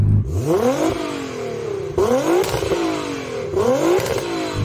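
A tuned 1000-horsepower Nissan GT-R engine revs hard three times in succession, each burst climbing sharply in pitch before falling back to a rumbling idle.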